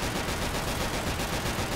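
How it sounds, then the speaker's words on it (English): Rapid gunfire from the zombie shooter Left 4 Dead 2, a dense, continuous crackle of shots filling the whole short stretch at steady loudness with no pauses. "Shoot all the things."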